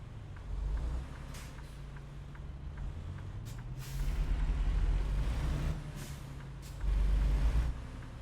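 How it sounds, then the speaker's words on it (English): Heavy truck engine rumble in American Truck Simulator, a low steady drone that swells in a few louder bursts, with sharp hissing air-brake releases cutting in near the start and middle, no voices. "if you listen to the sounds of my air brakes, it was at like right there"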